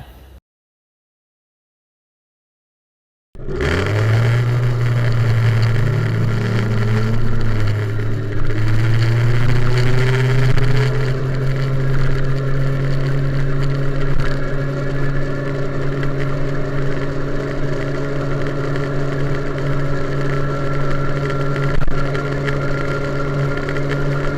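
A stock MBK 51 Airsal T4 liquid-cooled moped engine runs without a water pump or large radiator. After a moment of silence it fires up close and loud, rises briefly in pitch, then settles into a steady, buzzing two-stroke drone.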